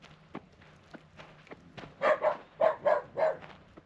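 A dog at a rural campground lets out a quick run of several close barks after a few soft footsteps and scuffs, the barks clustered in a tight, loud burst.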